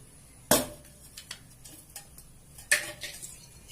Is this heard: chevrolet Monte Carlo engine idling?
no